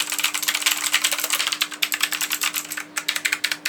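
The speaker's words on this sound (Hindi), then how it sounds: "एंड ऑटेम्यू के ब्लू स्विचेस में ही आता है ये कीबोर्ड" Fast typing on a budget mechanical keyboard with blue switches makes a dense, continuous run of crisp clicky keystrokes, loud and close, with no speech.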